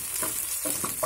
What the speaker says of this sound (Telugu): ఇప్పుడు స్ప్రింగ్ ఆనియన్స్లోని ఉల్లిపాయలు ఇవి కూడా జస్ట్ వేగిద్దాం.